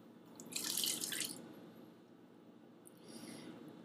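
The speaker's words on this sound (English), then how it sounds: "ml of soy sauce goes into the pan." Soy sauce poured into a pan for homemade kaeshi, a brief splashy liquid pour early on, then a quieter second trickle near the end, heard close with no talking.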